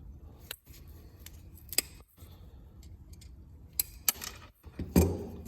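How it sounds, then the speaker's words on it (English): Cutters snipping a terminal off a spark plug wire in a few sharp, close clicks and snaps with short pauses between, the last cut the loudest. "I'm going to go ahead and cut this terminal off."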